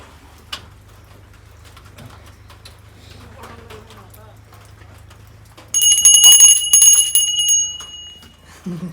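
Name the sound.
bell being rung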